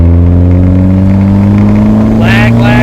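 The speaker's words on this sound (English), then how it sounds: "Let's roll into it in third and see what happens." A family sedan fitted with a rally car engine accelerates hard in third gear, its loud, close engine note climbing steadily in pitch as the revs build.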